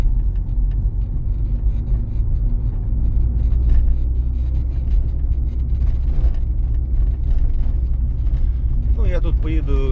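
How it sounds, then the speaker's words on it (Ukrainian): A car accelerating steadily on a rough, badly surfaced road, its engine and tyre rumble loud and continuous, with an instructor talking over it throughout. "натискати на газ і плавно відпускаємо щеплення. Їдемо прямо"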